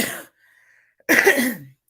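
A person coughs twice, a short cough and then a louder, harsher one, close up with a brief quiet gap between.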